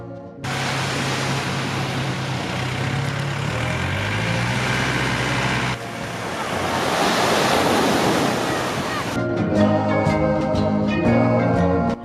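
Ocean waves at a beach resort in Okinawa, a steady roar of surf washing close by with gusts of wind buffeting the microphone, continuous and fairly loud, no voices.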